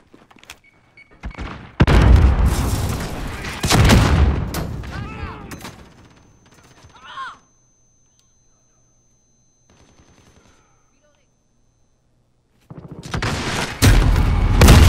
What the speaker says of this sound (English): My man with the RPG as a pistol.